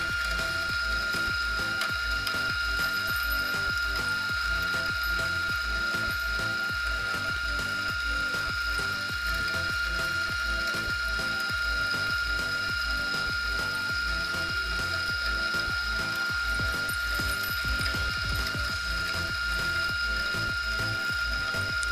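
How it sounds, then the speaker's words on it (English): A hand-cranked coffee grinder, used alongside a Turkish coffee pot, grinds slowly with a steady run of dense ratcheting, crunching clicks that continue loudly and evenly throughout, with no talking. "It's grinding slowly, but it works."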